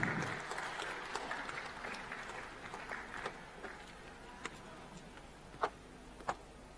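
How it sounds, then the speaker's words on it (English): Applause from the audience at a global running conference in Bangkok, loud clapping at first that thins out into scattered, sparse claps and tails off quietly. "May I have a big round of applause?"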